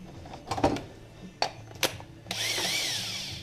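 Air tool on a Colorado repair job, a few sharp clicks and clanks followed by a steady hissing, whirring rush as it runs and draws in air, close and moderately loud, no talking.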